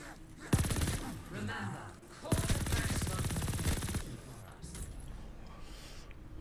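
An MG42 machine gun fires sustained loud bursts in Call of Duty Vanguard Zombies, two long rattling volleys separated by a short pause, with quieter game noise trailing after.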